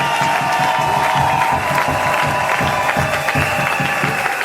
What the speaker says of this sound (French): applaudissons, accueillons nos autorités